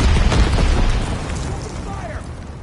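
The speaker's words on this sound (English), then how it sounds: "Enemy bomb. Incendiary bombs incoming." Incendiary bombs burst in a war video game with a loud, rumbling boom that fades over a couple of seconds. Game radio voices are heard alongside.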